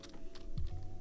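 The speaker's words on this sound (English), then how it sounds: "simply click delete on our keyboard" Computer keys tap in a quick, light run of close clicks, with a low steady hum underneath.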